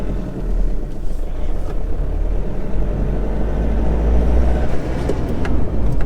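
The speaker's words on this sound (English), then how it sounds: "So let's go test drive." A truck camper on a test drive gives a steady, close, low engine and road rumble inside the cab that continues without a break.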